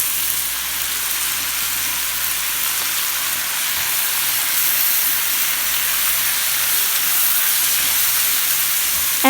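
Leeks fry in a hot pan for vegan fried rice, giving a continuous loud sizzle and hiss over a faint low hum. The sound stays steady and close throughout.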